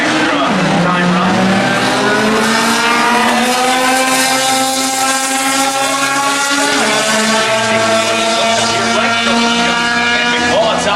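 Drag racing cars making time runs at a dragway, engines roaring loudly with rising and falling pitch as they launch and pass, sustained and near, with a voice talking underneath.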